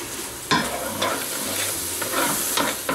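Grated, salted onions frying in a pan give a continuous crackling sizzle, broken by several sharp scrapes and stirs close by, with no voices.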